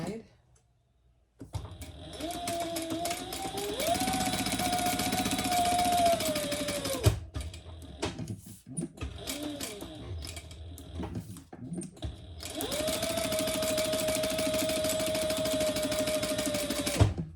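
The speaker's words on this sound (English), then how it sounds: "So I'm just going to stitch that down the side." A domestic sewing machine stitches down the side of a fabric sling bag with stabilizer inside, running in three long steady whirring bursts separated by short pauses, with someone talking in between.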